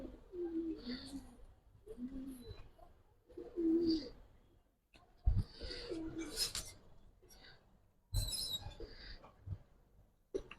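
Giribaz pigeons coo in a loft, a series of soft, low throaty coos repeating in rhythm, joined by some rustling and brief sharper sounds of birds moving close by.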